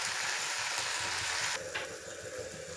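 Spices frying in a pan for a bottle gourd borugu pulusu, a steady close sizzle that runs throughout and drops slightly in intensity partway through, with occasional stirring scrapes.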